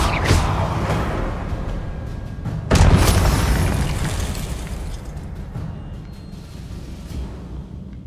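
A Confringo spell explosion in Hogwarts Legacy: a sharp, loud burst with a whooshing boom that decays over several seconds, preceded by a smaller impact, with no talking.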